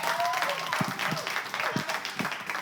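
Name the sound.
studio audience applauding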